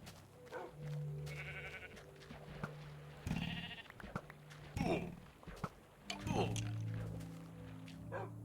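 Minecraft sheep bleat several times in short wavering calls, mixed with game footsteps and effects, while a person talks over the gameplay.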